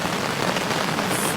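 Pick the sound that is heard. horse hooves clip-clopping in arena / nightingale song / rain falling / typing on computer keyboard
rain falling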